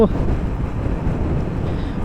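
Wind rushes against the microphone while a motorbike rides slowly over a flyover near Chittagong port, a steady buffeting roar with no clear speech.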